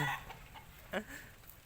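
A rooster, one that charges at strangers, gives a few short clucking calls over steady outdoor background noise, with a slightly louder call near the middle of the stretch.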